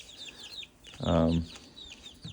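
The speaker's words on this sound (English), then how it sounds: "So those are the chicks we have." Buff Orpington and Delaware chicks peep in quick high chirps, with one louder, fuller cluck-like call in the middle, close by in a brooder.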